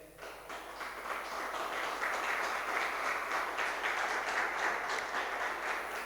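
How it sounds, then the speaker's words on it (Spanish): A church congregation applauds during a sermon, a steady crowd of clapping hands filling the room, moderately loud and continuous for several seconds with no voices over it. "Dele un aplauso al Señor"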